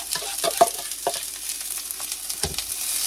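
Avocado oil sizzling in a pan on a hot plate inside a 2023 Flagstaff E-Pro 15TB camper, with a steady close crackle and a few sharper scraping stirs.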